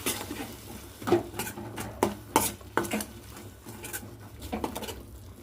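A spoon stirs and scrapes chutney in a pot up close, with several irregular clinks and soft scraping strokes and no voices.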